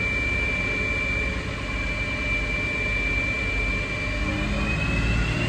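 A BMW E36 engine runs hard on a chassis dyno, a loud, steady mechanical roar with a broad rumble and a thin whine, holding near-constant intensity throughout the run.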